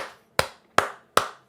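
Three sharp, evenly spaced hand claps ring out alone in a quiet space, each with a short decaying tail.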